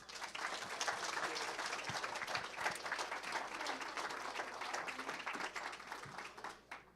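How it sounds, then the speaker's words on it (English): A café history talk audience warmly applauds to welcome a speaker, a full, even spread of clapping from many hands that holds steady, then trails off at the end. "please help me give a warm round of applause for David Zimmerman"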